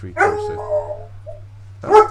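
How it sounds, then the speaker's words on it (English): A dog barks loudly indoors, a sharp bark followed by a drawn-out whimpering yelp and then another bark, heard over a low steady hum. "my apologies, that's the dog."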